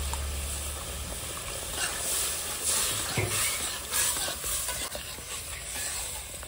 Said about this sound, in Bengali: গ্রেভিটা রেডি হয়ে গেছে, হালকা একটু জল দেবো।